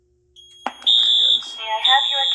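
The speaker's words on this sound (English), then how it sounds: "There has been a fire alarm reported in the building." Fire alarm triggered by testing a 135-degree rate-of-rise heat detector: a sharp onset, then loud, close, sustained high-pitched electronic tones that rise and hold, with no talking.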